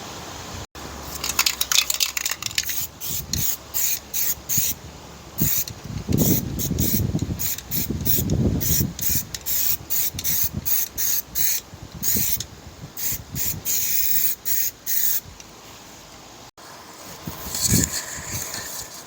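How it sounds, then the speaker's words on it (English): A can of body-shop aerosol primer is sprayed onto a 2009 Dodge Ram during rust repair. Many short, hissing bursts come in an irregular rhythm with brief pauses, along with faint handling noises. "I'm talking body shop type aerosol primer."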